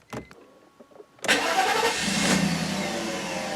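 After a short mechanical click and a brief pause, a Mercedes-Benz W140 S-Class engine turns over and fires once the fuel pump fuse is back in, then settles into a steady, loud idle nearby.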